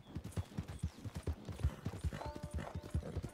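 Horses gallop during a chase in Red Dead Redemption 2, a rapid, continuous clip-clop of hooves at moderate volume with a faint whinny-like tone partway through.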